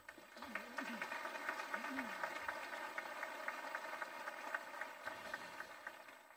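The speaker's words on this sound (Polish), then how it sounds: "Brawa dla niego." Crowd at a Mass at Jasna Góra applauding with dense, sustained clapping that holds steady throughout, heard from some distance, with a voice briefly over it at the start.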